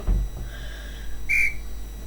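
A referee's whistle in a football video game gives one short, sharp blast after a faint thump, heard alone over a quiet background.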